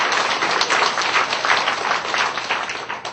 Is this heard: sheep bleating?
no